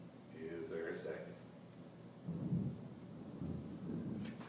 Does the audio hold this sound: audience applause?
no